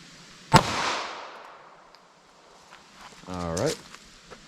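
A .380 ACP pistol with a 3.68 inch barrel fires a single sharp shot into ballistic gel, a loud crack trailing into a brief echo, followed a few seconds later by a short burst of nearby voice.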